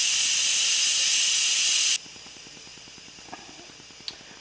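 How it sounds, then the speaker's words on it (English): An Instant Pot pressure cooker making flan vents steam in a forced pressure release: a loud, close, continuous hiss cuts off abruptly after about two seconds, leaving quiet ticking and a couple of small clicks. "So we're going to force dump the steam"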